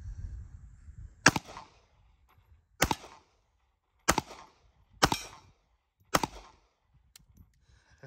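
A 9mm Elite SC subcompact pistol fires five sharp, loud shots at a steel plate outdoors, spaced unevenly about a second apart, each with a short ringing tail.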